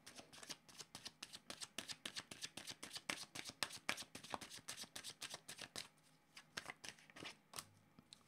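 Tarot cards are shuffled by hand in a quiet room, with a rapid, steady series of soft riffling slaps that slows slightly toward the end.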